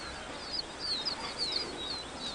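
Released game birds flutter out of an open cage into tall grass, with brief wing flaps and high chirps scattered through steady outdoor background noise, fairly close.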